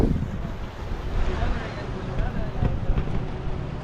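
Steady wind buffets the microphone on a seashore at Pondicherry, a dense continuous roar mixed with the wash of waves, with faint voices in the background.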